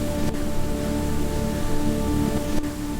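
Rain falls on a night bus in a steady, dense patter, with a constant hiss that stays even throughout and is heard alone, with no voices.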